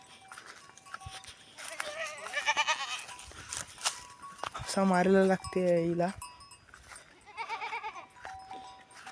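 Goats on a village farm bleat several times in wavering, nasal calls close by, separated by pauses while a person talks over and between them.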